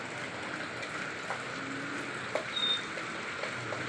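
Steady rain falls in a continuous broadband hiss, with a few louder drips and patters standing out now and then.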